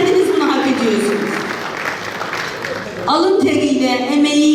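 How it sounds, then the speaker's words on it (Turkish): Journalists gathered for Working Journalists' Day on 10 January applaud themselves, a crowd of hands clapping under loud voices and cheering that swell up again near the end. "O yüzden bence kendinizi bir alkışlayın."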